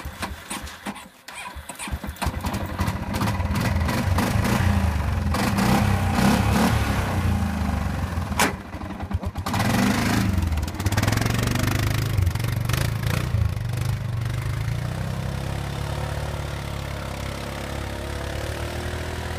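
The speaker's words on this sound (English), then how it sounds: "we're gonna keep riding our ATV around" An ATV engine runs steadily while being ridden, loud and close, with a continuous rough drone that rises and settles through the ride.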